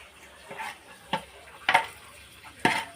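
Bay leaf, dried chillies and cinnamon frying in a pan give a faint, quiet sizzle broken by four sharp clinks of stirring against the pan, spaced irregularly over a few seconds.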